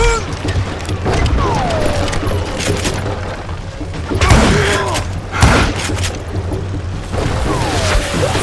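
Booming dynamite blasts and scattered gunfire from the western shooter Call of Juarez Gunslinger, with heavy thuds, crashes and whooshing debris in a loud, chaotic battle mix, several big explosions standing out near the middle.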